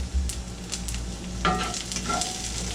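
A New York strip steak and onions sizzle in a pan, a close, steady frying hiss broken by a few clicks and scrapes of stirring.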